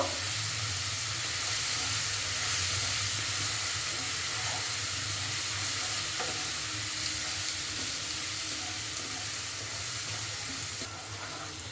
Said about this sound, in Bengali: রসুন বাটা দেবো রসুন বাটাটা একটু ভেজে নেবো